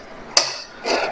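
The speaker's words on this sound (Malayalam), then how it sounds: "ഇനി ഇതിനെ കുക്കർ അടയ്ക്കാം" A pressure cooker lid is closed in a home kitchen while making Kerala black chickpea curry, giving one sharp metallic clack followed a moment later by a softer scraping clatter, close up with no talk.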